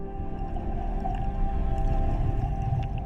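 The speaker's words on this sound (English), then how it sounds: "The whale rises, carrying the deep ocean back toward the air." Whale vocalizing in the cold open ocean of the Drake Passage, a steady low moaning drone with tonal bands, continuous and fairly loud throughout with no voices.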